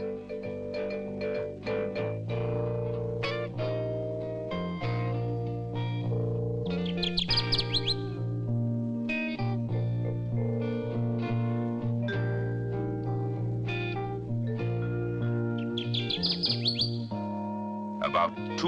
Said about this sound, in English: the Kirtland's warbler.